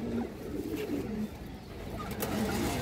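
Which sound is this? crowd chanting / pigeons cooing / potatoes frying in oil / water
pigeons cooing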